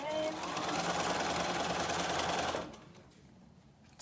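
Sewing machine running steadily through a stabilizing stitch around fabric, close and even for a couple of seconds before stopping abruptly into quiet room tone.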